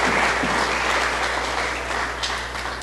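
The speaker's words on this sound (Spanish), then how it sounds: "Denle un aplauso fuerte a nuestro Dios." A church congregation breaks into loud, sustained applause during a sermon, a dense, even wash of many hands clapping that fades slightly toward the end, over a low steady hum.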